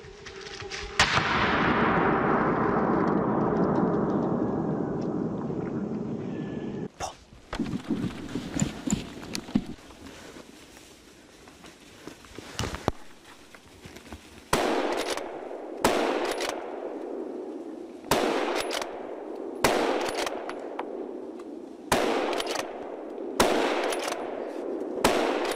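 Rifle shots during a wild boar hunt: a long rolling blast at the start, then a series of sharp, loud cracks spaced a few seconds apart, each with a short echoing tail, no talking.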